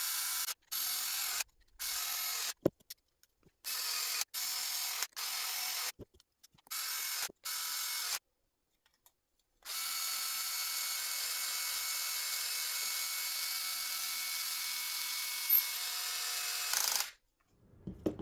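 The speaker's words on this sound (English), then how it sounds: "drilling all of these screws in." A power drill drives screws into a 7-inch drone frame arm in repeated short bursts of whirring, each separated by abrupt silences, followed by one long continuous run; close and fairly quiet, with no voices.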